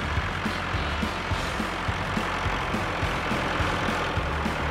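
The diesel engine of a blue toy-story tractor idles at a steady, low, rhythmic chug, close and continuous with no voices.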